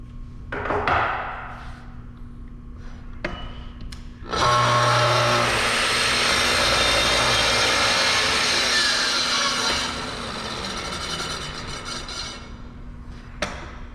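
A circular saw roars at full speed for several seconds, then is held down as its whine drops and fades while the blade coasts to a stop, with a few sharp knocks around it.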